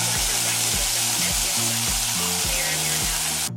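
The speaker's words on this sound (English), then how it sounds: "I'm going to add in the bok choy now." Bok choy goes into a hot pan of simmering meat and sets off a steady, loud, hissing sizzle under background music, with no voices.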